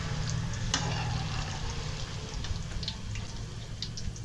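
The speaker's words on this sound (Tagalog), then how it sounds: "At yung mga natira pang ibinabad sa toyo at kalamansi, isunod na lang po natin iprito" Tofu soaked in soy sauce and calamansi frying in a pan, a steady soft sizzle with faint crackles running throughout at a low, even level.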